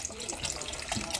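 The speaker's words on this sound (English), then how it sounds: "Pouring my broth." Broth poured into a pot of lasagna soup with tomatoes, a steady close splashing liquid stream for just over a second, no voices.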